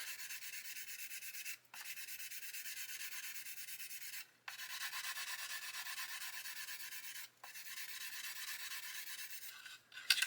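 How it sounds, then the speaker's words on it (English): Continuous dry sanding of Mr. Surfacer filler on a 1/32 scale plastic model aircraft kit, steady rasping strokes that pause briefly three times, close and fairly loud with no talking. "See, I've sanded more off the bottom than I have off the top."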